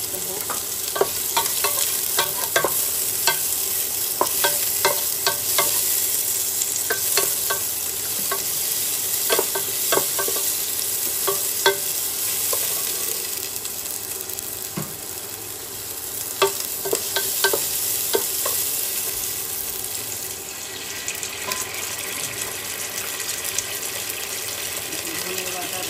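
Onion frying in a pan while being stirred, giving a continuous sizzle punctuated by repeated scraping clicks of a spatula, with a voice talking faintly in places.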